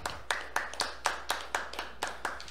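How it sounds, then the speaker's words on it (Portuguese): Rhythmic clapping in a radio studio during a live broadcast, about ten crisp, evenly spaced claps from a single person, fairly close and moderately quiet with no voices. "Tá aí, vamos bater palmas."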